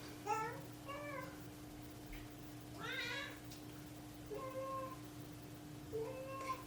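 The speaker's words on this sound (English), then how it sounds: "If you can hear the cat, I'm sorry." A cat meows several times in short, plaintive cries spaced a second or so apart, fairly close over a faint steady hum.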